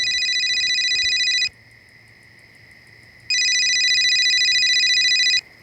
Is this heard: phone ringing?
yes